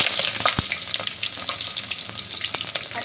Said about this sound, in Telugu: స్టవ్ పై గిన్నె పెట్టి ఆయిల్ వేడెక్కాక పోపు దినుసులు